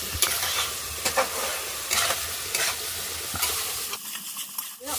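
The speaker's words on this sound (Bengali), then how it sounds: "এখন আমি তো বন্ধুরা আমি এখন মশলাগুলোকে ভালোভাবে লাল লাল করে কষে নিচ্ছি" Spices and potatoes being stir-fried in a pan for a hilsa fish curry in a village home kitchen: rhythmic scraping stirs over a steady close sizzle, which drops away near the end.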